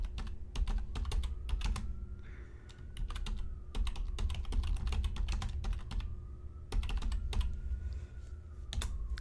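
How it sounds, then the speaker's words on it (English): Loud, fast typing on a computer keyboard, dense bursts of clacking keystrokes with short pauses between runs and a low steady hum underneath. "pardon my loud keyboard"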